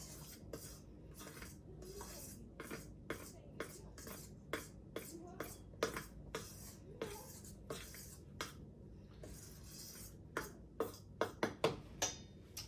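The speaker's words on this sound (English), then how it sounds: "So I'm just using a fork to whisk it all through." A fork whisks self-raising flour, salt and sugar in a bowl, giving a series of light clinks and taps against the bowl, irregular but frequent, fairly quiet and close.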